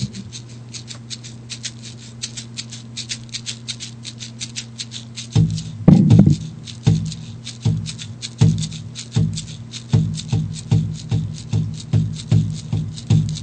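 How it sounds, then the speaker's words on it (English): A drum struck in a steady, slow rhythm: soft, muffled taps at first, then firmer, deeper beats repeating roughly every half second, close and clear, with no voices. "the sound of the drum helps to create a better vibration within the home"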